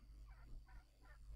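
A turkey gobbles three times in quick succession in Red Cloud: Indian Tribal Wars, faint and warbling over a low steady hum.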